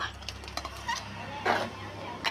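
Mashed curd is folded into a clay pot of kalan off the heat, giving a few soft scraping, clinking stirs with brief louder bursts of utensil contact against the pot.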